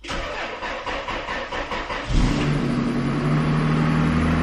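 A Lexus GS300's 2JZ engine, unused for two years, cranks with rhythmic pulses for two seconds, then catches and settles into a steady, loud idle.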